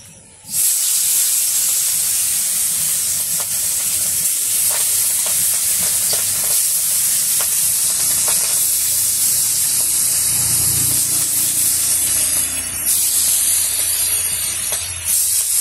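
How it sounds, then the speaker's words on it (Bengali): Fish frying in hot oil in a wok, giving a loud, steady sizzling hiss with light spatter that runs almost the whole time after a brief quiet start, and no talk over it. "যে মাছ ভেজে নেবো,"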